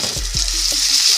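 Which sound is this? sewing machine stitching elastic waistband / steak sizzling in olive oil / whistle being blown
steak sizzling in olive oil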